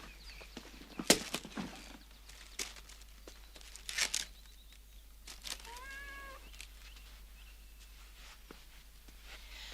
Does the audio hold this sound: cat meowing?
yes